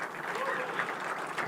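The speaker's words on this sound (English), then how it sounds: "please give a huge round of applause to Rajat" Conference audience at a React developer event applauds a first-time speaker, a steady, moderately faint wash of clapping from a crowd throughout.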